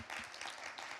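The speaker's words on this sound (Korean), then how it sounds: "박수." Congregation applause at a university-group church service, welcoming new members; a brief, steady burst of many hands clapping at moderate volume, with no talk over it.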